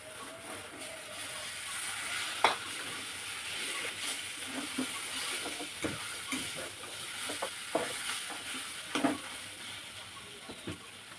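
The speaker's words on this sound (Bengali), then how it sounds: "ভালো করে এটা ভেজে নিতে হবে।" A mashed potato mixture frying in a pan gives off a faint, steady sizzle and hiss, with scattered soft scrapes and taps of stirring, close but quiet.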